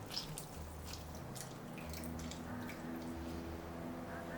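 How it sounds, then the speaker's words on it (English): Water drips and trickles as boiled spinach is squeezed by hand, small soft drips and squishy liquid sounds close up and faint over a low, steady background hum. "Lift the spinach out and squeeze gently but firmly until it no longer drips."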